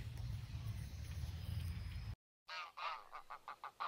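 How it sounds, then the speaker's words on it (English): Greylag geese honk in a quick series of loud calls after a brief silence, preceded by a steady low rumble of wind or engine noise, at Milicz Ponds, Poland. "Freshly mown wheat and barley fields are favorite feeding places for grey-legged geese."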